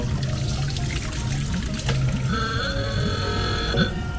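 Water pours and trickles in a vortex setup, a gurgling, splashing flow with bubbly low tones, close and continuous, with a faint higher whistling tone joining partway through.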